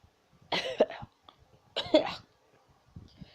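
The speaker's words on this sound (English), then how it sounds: "smoke fills your nose and mouth as you open your eyes, and you cough as it reaches your lungs." Two harsh bursts of coughing from smoke in a video game, about a second apart, close and clear, followed by a faint breath or small throat sound.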